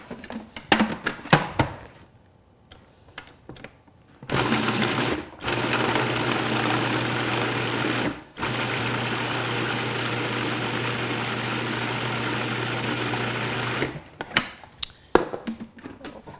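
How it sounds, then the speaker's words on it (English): A blender purees raw food with lemon in loud, steady motor bursts, roughly three runs separated by brief pauses, with clattering and knocks before and after. "Now we're going to puree all of this up."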